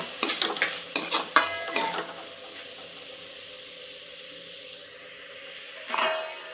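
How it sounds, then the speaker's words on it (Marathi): Egg bhurji with coriander is stirred in a pan: a rapid run of metal spoon clinks and scrapes over a soft sizzle, then a quieter stretch of gentle frying ending in one more scraping stir. "त्यामध्ये कोथिंबीर घालून घ्यायची आहे थोडी, छान असं मिक्स करून घ्यायचं आहे"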